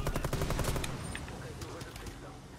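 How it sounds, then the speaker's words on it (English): Rapid bursts of explosions and gunfire from a video game extraction mission, loud and dense at first, then settling into a rumbling, crackling din. "Oh, there's explosions!"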